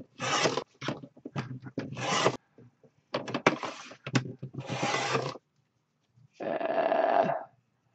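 Corners of a notebook cover being trimmed during bookbinding, a series of short crisp cutting and rasping strokes in bursts, close and fairly loud with gaps between.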